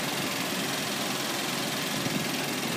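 A 2013 GMC Acadia's 3.6-liter V6 with a 6-speed automatic idles steadily, a dense, even rumble heard close and alone without any variation in pitch.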